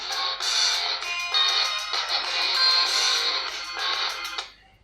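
A music track plays through the rear speakers of a Gionee Elife E8 phone, bright and tinny with sustained tones in several phrases with brief gaps, loud and close, then cutting off near the end.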